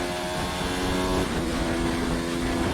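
Formula One car in the F1 2019 racing game taking the first corners gently, a continuous droning engine whine that shifts pitch slightly through the turns, with no speech.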